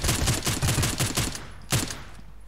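Rapid bursts of automatic gunfire in the shooter game Knives Out, a dozen close, punchy shots in quick rhythm, a brief pause, then one more shot trailing into quiet.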